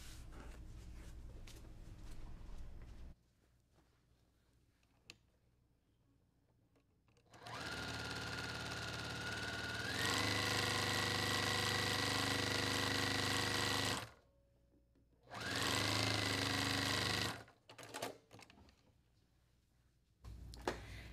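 A sewing machine runs a quarter-inch quilt seam in long steady bursts, stopping and restarting, with quieter handling sounds between runs.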